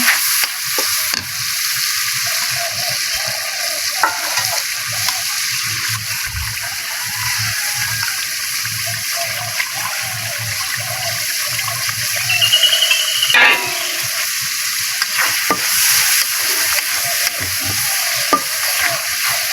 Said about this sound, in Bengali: আর হলুদ দিয়ে দিলাম পরিমাণ মতো, দিয়ে তেল গরম হয়ে গেছে, মশলা কষিয়ে নেব